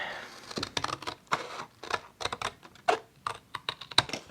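The edge of craft paper from a repurposed library book page is cut. Short, crisp snipping and crunching sounds come in irregular bursts close up, with no talk.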